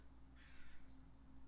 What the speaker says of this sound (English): can you guys hear the crow outside?